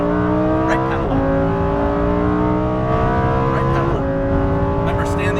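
A Lamborghini Huracan Performante accelerates hard on a race track, its engine rising steadily in pitch through the gears with quick shift breaks. An instructor talks over the loud, close engine roar.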